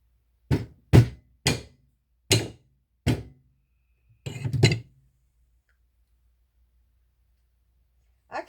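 Hammer blows on a hard concrete mold: five sharp separate knocks about half a second apart, then a rougher cluster of impacts, a long pause and one more strike, close and loud.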